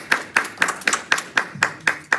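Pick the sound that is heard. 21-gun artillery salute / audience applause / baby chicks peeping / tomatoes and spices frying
audience applause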